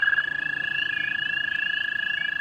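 Toads trilling at night in early spring, a continuous high-pitched steady trill with faint pulsing chorus behind it, close and clear with no talking.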